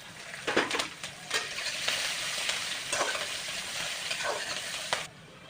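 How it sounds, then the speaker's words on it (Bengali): Chana dal, mustard seeds and asafoetida crackling in hot oil for upma, a steady close sizzle broken by several scraping stirs of a spoon, cutting off abruptly at the end. "একটু ছোলার ডাল আর অল্প হিং ভেজে নেব।"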